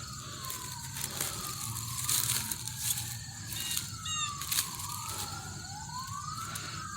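Wailing sirens sweep up and down in pitch across a steady background hum, moderately distant, overlapping one another throughout.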